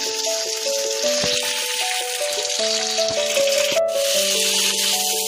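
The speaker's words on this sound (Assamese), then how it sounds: "মই বৰা চাউলখিনি দি তেলত এনেকৈ লৰাই দিছোঁ।" Soaked bora sticky rice frying in oil in a kadai, a steady sizzle with scraping and rattling as it is stirred, while faint tonal music plays underneath.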